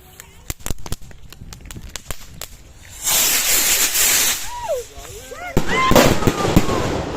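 Fireworks and firecrackers go off in an open field on New Year's Eve: a run of sharp, loud cracks, then a roaring hiss, followed by whistling rockets and more bangs close by.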